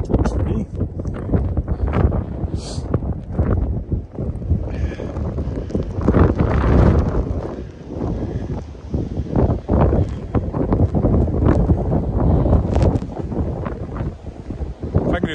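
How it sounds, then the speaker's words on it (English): Blizzard wind roaring against the microphone while someone walks outdoors in Regina in driving snow, a loud continuous buffeting rumble with gusts, and a person talking under it. "We won't walk back into the wind."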